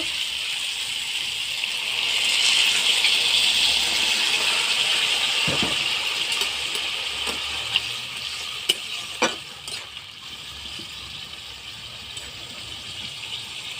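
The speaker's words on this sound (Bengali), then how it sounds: "এবার আমি জল দিয়ে দেব।" Water poured into a pan of fried ash gourd curry sets off a loud, steady hissing sizzle that fills the whole stretch, with a few sharp clinks near the end.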